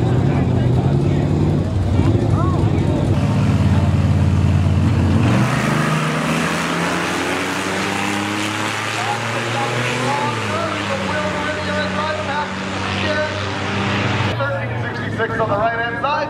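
At a Roadkill zip-tie drag race at Gateway Motorsports, Madison, a Dodge truck and a battered Buick Riviera launch down the strip, loud engines revving and droning away over several seconds while an announcer talks over them.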